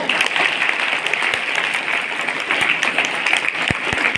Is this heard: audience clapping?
yes